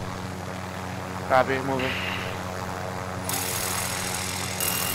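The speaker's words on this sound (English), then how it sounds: "I think we take the helicopter to this building over here" A helicopter in a video game gives a steady, droning engine and rotor hum through the whole stretch, with players briefly talking over it.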